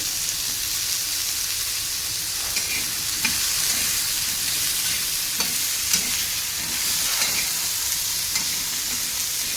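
Three chilies roast in a pan for stuffed bitter gourd, giving a continuous loud, close sizzle with occasional light stirring taps.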